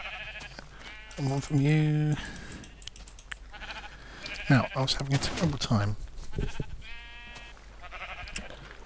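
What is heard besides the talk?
sheep bleating in Minecraft video game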